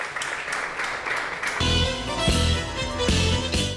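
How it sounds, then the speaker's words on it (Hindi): Studio audience applauding a winning contestant on a farmers' quiz show as she receives the Kisan Cup, dense steady clapping that swells partway through, close and loud with music rising underneath. "तालियां बजती रहनी चाहिए"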